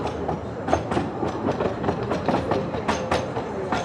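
A heritage railway locomotive shunts carriages near a carriage shed in the Lake District, with rhythmic clickety-clack of wheels on rail joints and squealing metallic tones, moderately close and continuous.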